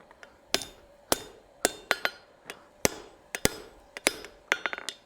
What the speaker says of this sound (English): So now we can focus our hammer blows.